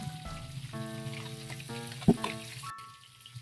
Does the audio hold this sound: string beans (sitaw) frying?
yes